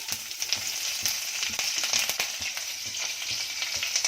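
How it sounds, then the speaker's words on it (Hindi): Cumin, mustard seeds and green chillies sizzle and crackle in hot oil, a dense, loud frying hiss dotted with rapid popping bursts throughout. "अब जाएगा थोड़ा सा जीरा, थोड़ी राई थोड़ा जीरा। अब जाएंगी मिर्ची"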